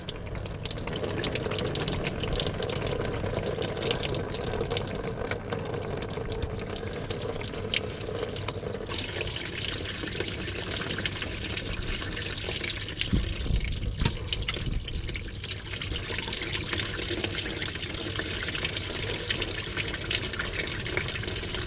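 Coolant drains out of a Range Rover Evoque engine during a timing belt and water pump replacement, making a steady, continuous trickling and splashing of liquid that runs throughout, with no talking.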